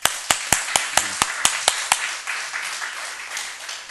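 A church congregation at a Thursday worship service claps in unison, about nine sharp, evenly spaced claps that then loosen into scattered applause, close and clear with no speech over it.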